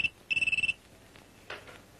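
A telephone rings in a period Egyptian crime film, one clear electronic trill of rapid pulses heard close and alone, followed by a brief faint rustle.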